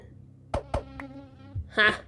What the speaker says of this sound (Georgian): ისევ ეს ბუზი